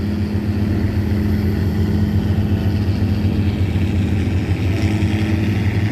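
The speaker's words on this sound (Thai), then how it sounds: "เสียงเครื่องลั่นลั่นตอนนี้" A loud, steady engine roar rumbles continuously from a tugboat, a constant low drone with no pauses.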